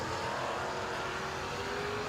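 A 1968 Camaro SS drag race car launches at a drag strip, a steady, distant roar of engine noise that holds for a couple of seconds, fairly faint and without talk.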